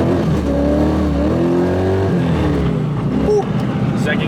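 An LS1 V8 in a swapped BMW Z3 with a T56 gearbox revs hard in second gear, its engine note climbing and then dropping, loud and close with a faint voice in the background.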